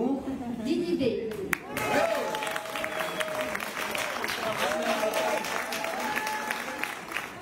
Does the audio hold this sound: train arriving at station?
no